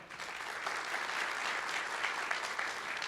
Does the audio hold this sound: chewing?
no